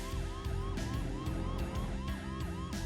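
A police car siren in BeamNG.drive wails in a fast, repeating rising sweep, loud and steady over a low engine rumble throughout.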